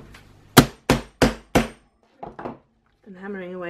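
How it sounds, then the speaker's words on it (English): A hammer strikes the lining of a Filofax planner cover being turned into a traveler's journal, with four loud, evenly spaced close blows, then two lighter taps, followed by a brief voice. "And hammering away again,"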